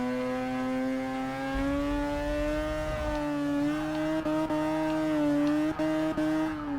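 A Toyota race car fitted with a rotary engine revs hard in Forza Motorsport 6, a smooth buzzing engine note climbing and holding steady, with a few brief gear-shift dips toward the end.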